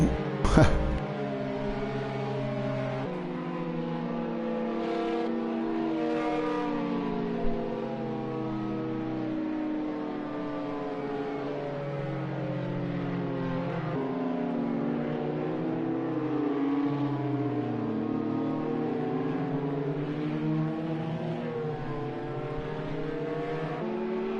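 GT-1 race cars rolling through a formation lap at Circuit de la Sarthe, Le Mans, in a racing video game, their engines droning and shifting steadily together at close range, loud and continuous throughout.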